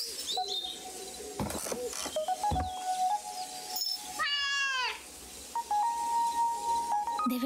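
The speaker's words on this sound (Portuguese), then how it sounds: "Debe ser la gata de Nora." Nora's cat in the game Dordogne gives a single rising, wavering meow near the middle, set among soft chimes and ambient game tones, with no talking.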